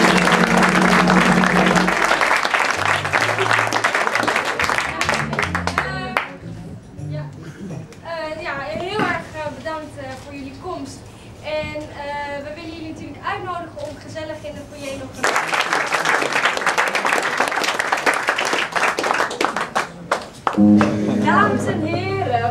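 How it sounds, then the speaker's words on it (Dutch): Audience applause at a live show in a bakery venue in 2013, loud clapping at the start, returning around the midpoint and again at the end, with music and voices in between. "Dus ik wil ook een warm applaus voor deze mensen."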